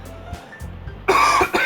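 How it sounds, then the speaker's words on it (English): A person's cough, one sharp, loud burst near the listener after a few small throat sounds, set in a quiet room with no talking. "I got a cough."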